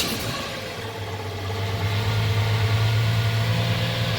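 A 1985 Isuzu Pup lowrider mini truck engine idles steadily, a low even hum close by that firms up slightly after the first second and then holds without any talking.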